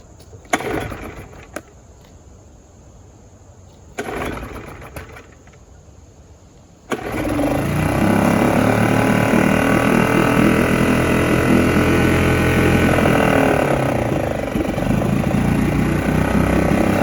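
A dinghy outboard motor with a freshly cleaned carburetor cranks twice with short bursts, then catches and runs loudly and continuously, close to the listener, with no talking.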